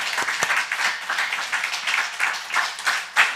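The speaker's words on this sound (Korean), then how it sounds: "하나님께 영광의 박수 또 올려드리겠습니다" Church congregation clapping in praise during a Korean Christmas worship service, a dense, uneven burst of many hands filling the hall, steady for a few seconds with no talk over it.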